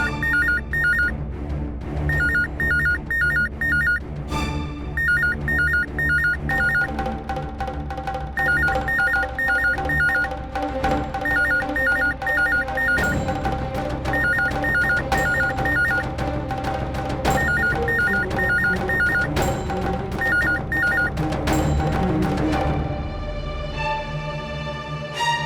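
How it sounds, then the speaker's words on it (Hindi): A telephone rings in short, evenly spaced bursts repeated many times over a continuous musical background, then stops near the end. "आ गया फोन।"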